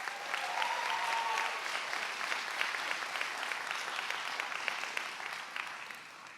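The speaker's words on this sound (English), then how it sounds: "graduates, please give your loved ones a round of applause." Sustained, even applause from a crowd of graduates at a 2022 physician assistant white coat ceremony, a dense patter of clapping that holds steady for the whole stretch in a large room.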